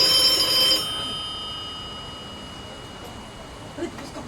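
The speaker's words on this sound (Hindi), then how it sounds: "अरे किसका फोन है?" A telephone rings in a Hindi stage play, a bright electronic tone loud at first then continuing more faintly with room noise behind it.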